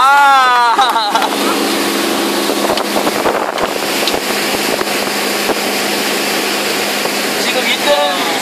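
A motorboat carrying passengers from a riverside resort to Nami Island, its engine a steady broadband roar mixed with water rush and wind buffeting the microphone, after a brief voice at the start.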